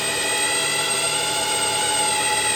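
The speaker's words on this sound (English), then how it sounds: "I'm actually running a spring pass through at the moment. You can hear a sort of resonating sound." Lathe boring a slow, fine-feed finishing cut 84.3 mm deep at 500 RPM, giving off a loud, steady resonating ring with sustained tonal overtones and no break, and no talk.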